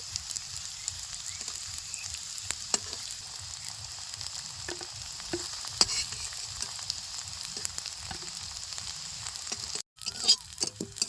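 Semolina snacks sizzle steadily in hot oil as they are turned, a close, even hiss dotted with small clinks and pops, with a brief drop-out near the end.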